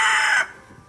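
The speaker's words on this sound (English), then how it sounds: "the rooster wants to give me a hard time." A rooster's crow ends loud and close, a bright strained call cut off within half a second, leaving quiet outdoor background.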